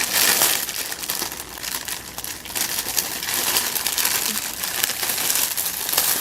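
Plastic wrapping around a textured resin mold tray set crinkles loudly and continuously up close, with no pauses.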